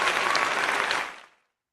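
Applause sound effect triggered from a button, a burst of crowd clapping over a second long that cuts off cleanly into silence.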